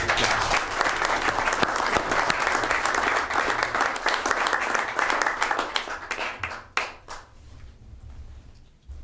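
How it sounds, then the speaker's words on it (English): Audience applause at a city council meeting honouring a resident: close, dense hand clapping that holds steady, then thins out to a few scattered claps and fades near the end. "How about a round of applause for Donnie?"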